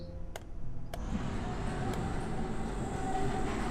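Tram riding along rails in the game Abiotic Factor, a steady continuous rumble and clatter of wheels on track with a few sharp metallic clicks early on, close and sustained throughout.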